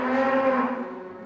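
Dairy cows moo during the once-a-day morning milking on a farm where calves stay with their mothers. One long, loud, harmonic moo holds for about a second, then slowly fades. No one speaks.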